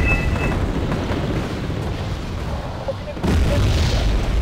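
Heavy booming artillery fire from an enemy gun emplacement in a wargame battle, a continuous rumbling roar with a louder blast near the end, and a voice speaking over it.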